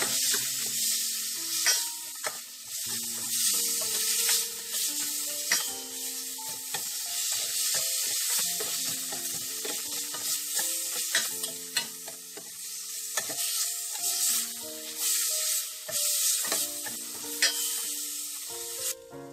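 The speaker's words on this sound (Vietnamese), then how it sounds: "Mình xào cho nó thơm lên các bạn." Marinated minced pork is stir-fried in hot cooking oil in a pot, a continuous close sizzle broken by frequent scraping and clinking strokes of the spatula, busy and steady, with no voices.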